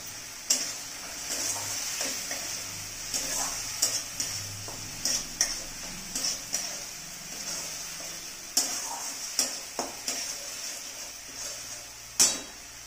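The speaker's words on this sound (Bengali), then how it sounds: "ফ্লেমটা হাই করাই আছে, সামান্য একটু নাড়াতে হবে, নাড়িয়ে নাড়িয়ে কষাতে হবে।" Onions with split green chillies frying over a high flame in a pan, a steady sizzle under repeated scraping stirs and clinks of a spatula, moderately quiet and close, with no voices.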